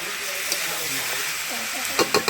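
Steady sizzling of chicken frying in a pan, with a few sharp scraping stirs near the end.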